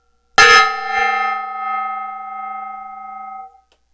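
A workshop gong struck once with a sharp metallic hit, then a bright ringing tone with steady overtones that sustains loudly and slowly fades over about three seconds, heard alone.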